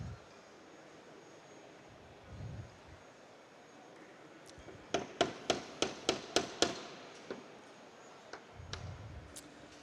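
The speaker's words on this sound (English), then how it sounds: "So finish setting your rivet" A hammer's dome face strikes a leather rivet to set it: a quick series of about seven sharp, close metallic taps in steady rhythm, followed by a few lighter scattered taps against a quiet room.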